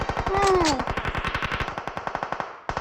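Automatic gunfire in the mobile battle royale game PUBG Mobile rattles in a fast, steady stream of loud close shots, with a brief pause before it resumes, over a faint tonal game sound at the start.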